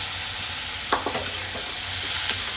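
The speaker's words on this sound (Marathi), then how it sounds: "नंतर यामध्ये शिजलेली गवार सर्व टाकून घ्यायची आहे आणि परत एकदा चांगली परतवून घ्यायची आहे." Cooked cluster beans sautéed in hot oil in a pan, a continuous sizzle with a short burst of spatula stirring strokes near the middle, close and fairly loud, no speech.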